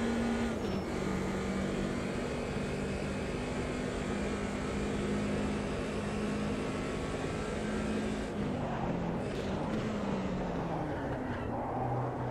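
A BMW 2002 Turbo racing at Monza 1991 in Automobilista 2: a loud, steady engine drone holds a constant pitch with no pause, then shifts and dips briefly after a gear change near the end. No voices are heard.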